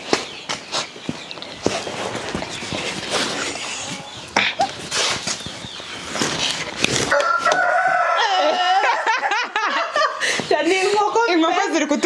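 Chickens and a rooster in a farm henhouse cluck and crow, at first under laughter and chatter, then more loudly as repeated crowing calls dominate near the end.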